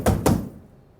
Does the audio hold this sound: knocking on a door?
yes